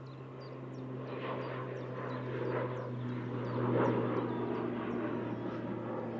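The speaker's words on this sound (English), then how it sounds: "We have the Logan Air back off to the Isle of Man." A Loganair plane departing Manchester Airport for the Isle of Man gives a steady, distant engine roar with a low droning hum. The roar swells gradually and peaks near the end of the takeoff run.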